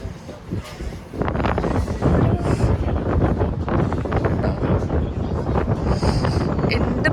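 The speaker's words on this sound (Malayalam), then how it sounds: "നല്ല തണുപ്പുണ്ട്, നല്ല കാറ്റുണ്ട്." Strong wind at the top of the Eiffel Tower roars and buffets the microphone, loud and continuous after a softer start, with faint voices in the background.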